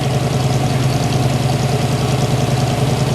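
Steady close-up idle of a 1957 Chevrolet Corvette's 283 V8, finished in Polo White: a loud, constant low burble with a rapid even pulse and a faint ticking texture, heard alone.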